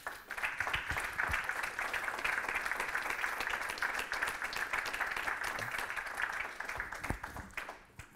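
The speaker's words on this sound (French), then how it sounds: "on peut les applaudir." An audience at a conference on sustainable cities and sport claps steadily for the speakers, a dense, even round of applause that trails off near the end.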